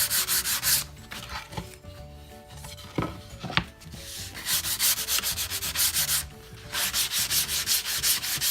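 Sandpaper worked by hand over a veneered wood surface, with steady back-and-forth rubbing strokes in loud rhythmic bursts, a short quieter pause with a few knocks in the middle, alone and close.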